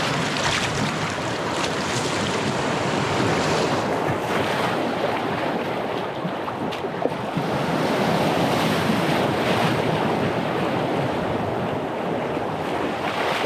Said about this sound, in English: it looks like we have a rapid right as this bluff comes to an end